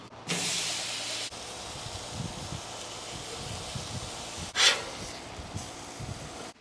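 Pineapple slices with brown sugar sizzle on a Blackstone griddle, a steady soft hiss with a sharper spray-like burst partway through and quiet crackles underneath.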